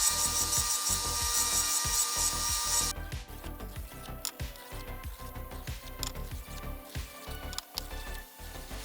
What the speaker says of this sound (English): When deburring with a belt sander, remember, you're not trying to put a bevel on the part, you're just skimming that corner off to get rid of the burr.